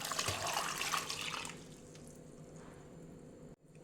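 Water poured into a cooking pot holding lesser yam for boiling, a short splashing pour up close that tapers off into a quiet trickle.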